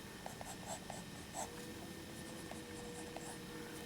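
A pen sketches on paper as an armored fantasy character's arm is drawn, producing soft, quiet scratching strokes in short irregular bursts with no talking.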